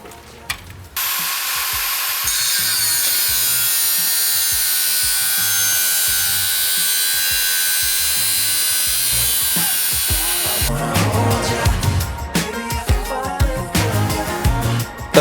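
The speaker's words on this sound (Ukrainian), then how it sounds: "Я зрізаю, поки ось цей редуктор не буде впиратися мені в квадратну трубу." An angle grinder fitted with an Aloid cutting disc cuts through square steel tube, giving a loud, steady high whine close by that shifts into rougher, grinding bursts toward the end.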